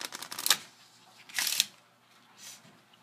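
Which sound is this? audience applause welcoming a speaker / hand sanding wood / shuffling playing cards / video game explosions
shuffling playing cards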